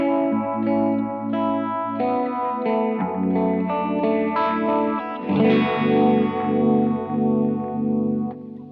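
Electric guitar played through an effects preset with static noise, a filter and vibrato, sustained wavering chords with a swept, chorus-like shimmer, played alone and fairly loud.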